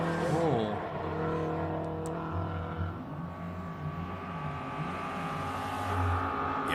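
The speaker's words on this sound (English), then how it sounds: "that's just redlining it flat out up the hill" Silvio Scribante's classic car at the Simola Hillclimb, its engine held near the redline flat out up the hill, a sustained high-revving drone with shifting tones, heard from a distance beneath commentators talking.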